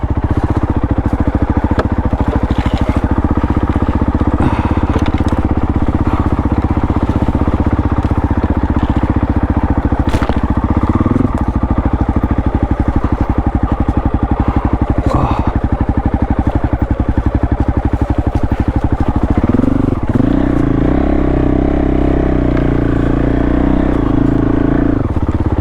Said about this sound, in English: I'm idling with the clutch half in and it's still going.